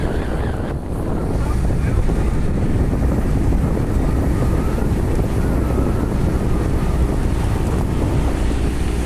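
Steady wind roars over a motor boat at sea near Fernando de Noronha, a dense, loud rush with water noise beneath it that holds unbroken and alone for the whole stretch.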